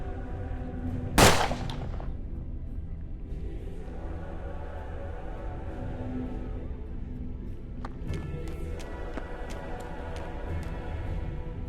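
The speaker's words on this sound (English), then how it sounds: "Good thing I've got this volcano pistol." A single sharp gunshot from a volcano pistol in the turn-based western game Hard West, loud and abrupt near the start, then a low steady background hum with a few faint clicks.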